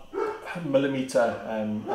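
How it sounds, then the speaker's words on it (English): Dogs bark near a microphone in a home setting, several sharp yelping barks in quick succession mixed with a voice talking over them. "Sorry, I'm just going to shout at these dogs again."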